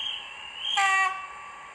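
A Brawa NAH.SH Bombardier Twindexx Vario RT 445 EMU model train runs on track with its sound effects playing. A steady electric whine swells into a short, bright horn-like tone at mid-level volume, then fades back, with no talk.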